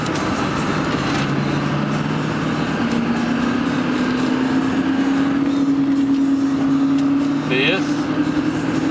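A 2002 Chevrolet Silverado 3500HD LS dually pickup accelerating through its gears on a test drive, a steady engine drone that rises in pitch, with a brief shift change near the end and someone talking over it.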